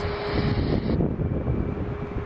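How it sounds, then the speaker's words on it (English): A Boeing 787 airliner of Hanyang Airlines flying past, a broad steady jet engine roar with some wind buffeting, fairly loud and continuous with a high whine fading out partway through. "There we have a 787 for Hanyang Airlines."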